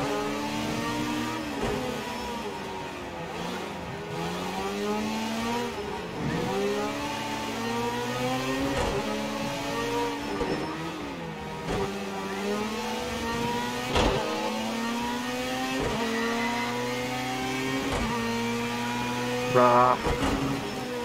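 Racing car engine in a VR driving game revs and shifts repeatedly through a loud, continuous drive, with tyres scrubbing as the car slides through a corner and clips a line of tyre barriers.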